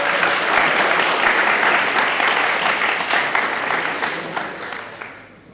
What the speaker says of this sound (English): Big applause to Tivoros.